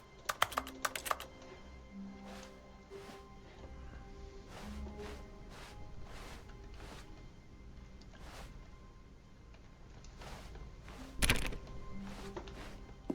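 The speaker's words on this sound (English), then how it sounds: "no matter what you click on, it makes a keyboard sound" Clicks in the video game The Stanley Parable each produce a computer keyboard typing sound. Quiet, scattered keystroke taps come in short bursts and single strikes over a low room hum, with a louder cluster near the end.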